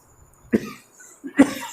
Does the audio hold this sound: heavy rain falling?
no